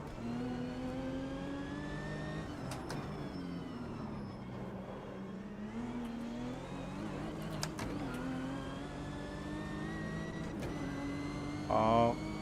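A racing car engine in the AMS2 sim drones and revs steadily, rising and falling with gear changes and a few sharp shifts, loud and continuous.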